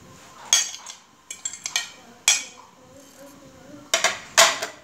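Potatoes and vegetables, with garlic and black pepper, being mixed in a frying pan: several sharp metallic scrapes and clinks of a utensil against the pan in uneven bursts, with a faint voice between them.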